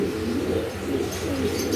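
Pigeons kept for sale coo in soft, continuous low murmurs with a few faint chirps overhead, a close and steady sound with no talking.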